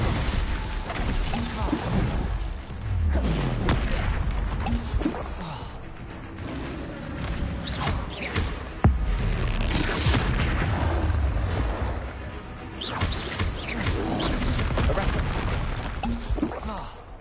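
Spell blasts from Hogwarts Legacy burst in a dense, continuous barrage of booms, crashes and shattering impacts. Loud and close, they layer over busy game noise with no pause through the whole stretch.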